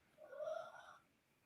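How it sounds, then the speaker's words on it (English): A pug dog snoring, a single faint, drawn-out rasping snore with a slight tonal whine, rising and fading over about a second in a quiet room. "He's a pug, man. He's down there snoring."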